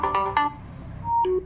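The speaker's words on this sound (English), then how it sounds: "So here's the ringtone" An Oppo A78 smartphone ringtone plays alone: a short melodic run of bright electronic tones with brief pauses, close and clear.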